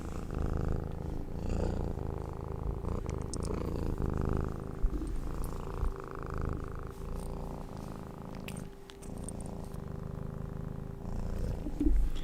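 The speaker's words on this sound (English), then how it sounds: "What a terrible, mean, ferocious cat this is, huh?" A cat purrs steadily up close, a low continuous rumbling drone with a faint whistle-like tone running through it, no voices.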